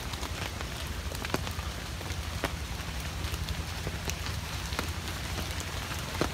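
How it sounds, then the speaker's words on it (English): Light drizzle falling just after a heavy downpour, a steady soft hiss of rain on surfaces with scattered close drips and taps continuing evenly throughout, no voices. "Now it's drizzling after a heavy rain."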